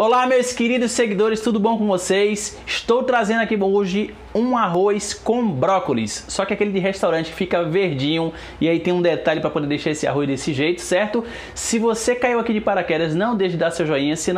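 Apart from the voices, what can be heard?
No everyday noises stand out.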